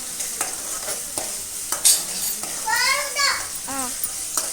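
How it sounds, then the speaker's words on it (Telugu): Potato kurma sizzles and fries in a pan while it is stirred, with soft scraping strokes over steady frying noise and a voice chattering briefly in the background. "తర్వాత ఏమో దాన్ని బాగా ఇట్లా తిప్పండి."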